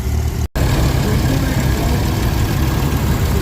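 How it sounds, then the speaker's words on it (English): Minneapolis Moline tractors, among them an F20, run at a steady idle outdoors, a loud continuous engine drone with a brief dropout near the start and no talk over it. "Sharp Minneapolis Moline tractors here."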